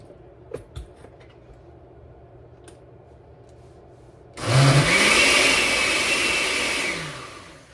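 A blender whirs on roasted salsa with salt, switching on abruptly after a few quiet clicks and running loud and steady for about three seconds before winding down.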